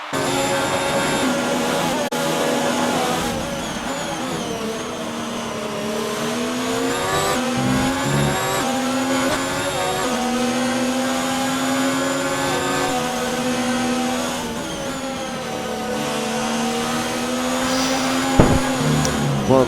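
Formula 1 cars in the racing game F1 2019 at the Brazilian Grand Prix, engines droning steadily at high revs with shifting harmonic pitch as one car runs up behind a Mercedes, continuous and loud throughout.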